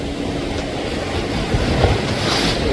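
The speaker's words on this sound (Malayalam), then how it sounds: "Boat pond." A boat passes offshore at Lemuria beach in the Seychelles, heard as a steady, broad rumble mixed with surf and wash from the sea, swelling slightly toward the end without any talk.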